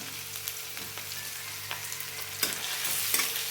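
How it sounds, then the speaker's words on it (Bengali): Chopped garlic and ginger fry in hot oil for cauliflower manchurian, giving a steady close sizzle with occasional sharper crackles and stirring clicks and no voices. "একটু ভেজে নেব রসুন আর আদাটা"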